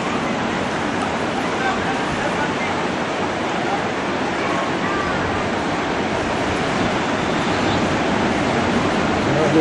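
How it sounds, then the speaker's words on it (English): Ocean surf rolling onto the beach at Mazatlan, Mexico, a continuous loud roar of breaking waves with wind buffeting the microphone and faint voices in the background. "Well, just past them there's some big monster waves."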